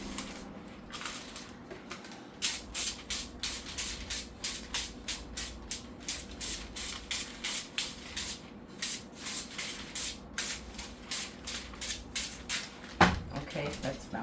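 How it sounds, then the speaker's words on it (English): Repeated short bursts of cooking oil spray hit a baking pan in quick succession, a steady hissing rhythm of about two puffs per second in a close, quiet kitchen while ham and cheese stuffed bread is prepared. "I'm gonna spray my pan with some oil."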